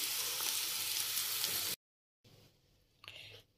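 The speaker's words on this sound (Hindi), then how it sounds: "आप प्याज को भी हम हल्का सा फ्राई करेंगे।" Onions fry in a pan with a loud, steady hiss for nearly two seconds. The sound then cuts to silence, followed by quieter kitchen noise and a brief knock.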